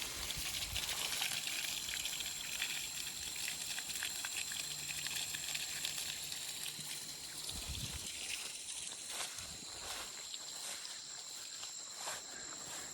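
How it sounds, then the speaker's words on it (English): Fresh creek water flows steadily in a continuous hissing rush by a wildflower meadow, with faint crickets and a few light footsteps mixed in. "Fresh creek water."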